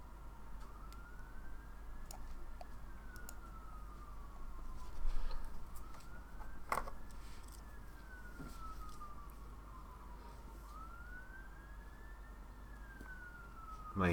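A wailing emergency vehicle siren passes at a moderate distance, rising and falling in slow repeated sweeps over a steady low hum and traffic rumble.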